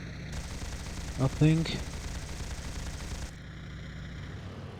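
Machine gun fire during a strafing run in the IL-2 1946 combat flight simulator, heard as a short rapid burst over a steady engine drone, with someone speaking briefly over it.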